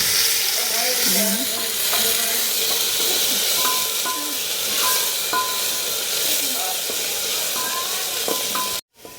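A medium onion fries in mustard oil in a pan, a loud steady sizzle and hiss with occasional stirring scrapes throughout.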